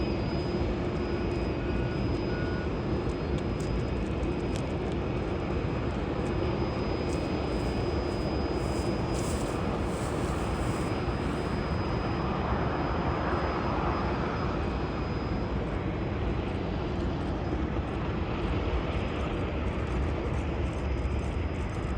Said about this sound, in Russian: Перед нами Boeing 787 Dreamliner, один из самых современных самолетов Boeing.